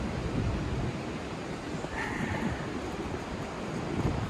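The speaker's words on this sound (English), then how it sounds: "Judging by the sound of the wind and stuff out here" Steady wind blows outdoors across an open yard, a continuous broadband rush and buffeting against the microphone that holds for the whole stretch without pause or voices.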